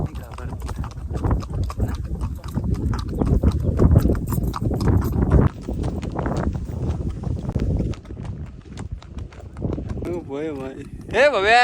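A horse's hooves clip-clop on a ride at the Mahabaleshwar hill station, a steady busy patter of steps heard under continuous people's talk and outdoor noise.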